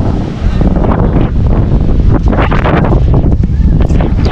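Strong wind on a sandy beach buffets the microphone in a loud, continuous roar with gusty surges throughout, drowning out other detail.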